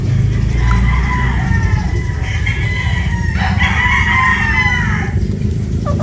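A Boston Roundhead broodstag rooster crows loudly and close over a dense farmyard background of other fowl clucking and crowing.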